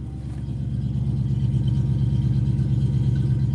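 Steady engine of a Cobra running close by, a continuous low rumble with a rapid pulsing beat, loud and alone without any voices.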